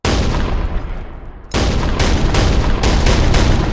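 A 20mm anti-air gun fires in People Playground, a loud heavy burst that fades to a lull, then returns as a rapid run of booming shots.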